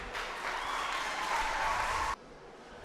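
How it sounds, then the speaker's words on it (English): An audience at a children's podium speaking competition in Gambia claps, giving a dense burst of applause for about two seconds that stops abruptly, leaving near silence. "Please clap for Aissatou Trawale once again"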